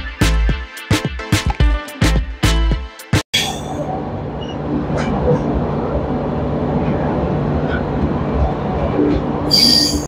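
A horn sounds in a few long, loud blasts, then the NJP to Alipurduar Vistadome tourist train pulls out of the station, wheels grinding and squealing steadily on the rails with a sustained rumble that builds toward the end.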